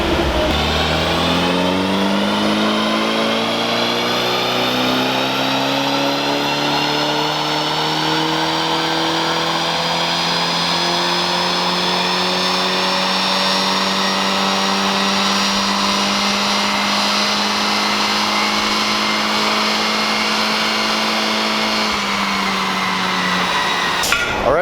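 A Mini Cooper revs hard on a dyno, its engine note climbing steadily through one long sustained pull lasting over twenty seconds before dropping off, loud and close with no talking.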